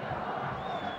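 Football fans fill the Ipatingão stadium at a Brazilian Série B match, their steady distant crowd roar and murmur running faint and unbroken through the moment.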